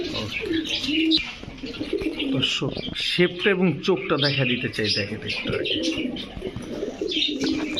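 Racing pigeons coo and chirp close by throughout, with someone talking over the birds almost the whole time.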